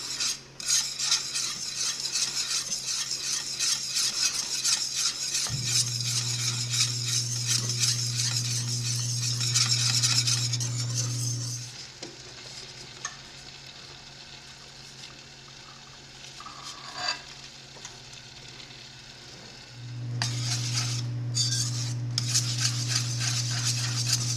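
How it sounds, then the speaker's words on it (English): Sharp cheddar is stirred into a thick mac and cheese sauce with a utensil, giving continuous close scraping and clinking against the pot over a steady low hum, with a quieter stretch midway. "I'm going to add my cheese slowly, and it calls for 2 cups or 8 ounces of sharp cheddar"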